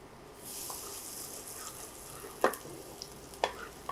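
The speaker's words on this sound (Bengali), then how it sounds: "এখানে দিয়ে দিচ্ছি কিছুটা তেল, আর এখানে কোয়ার্টার কাপ আছে রসুন কুচি, সেটা দিয়ে দিব।" Chopped garlic frying in oil in a pan, a soft steady sizzle with a few sharp clinks and scrapes of utensils.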